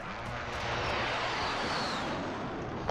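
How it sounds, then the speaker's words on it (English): Helicopters fly overhead in the video game Call of Duty: Warzone, producing a loud, continuous rotor-and-engine roar that holds steady throughout with no breaks and no talking. "Helicopters on the right."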